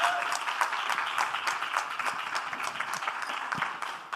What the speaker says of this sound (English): Let's give this incredible panel a round of applause.